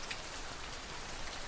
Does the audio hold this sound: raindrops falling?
yes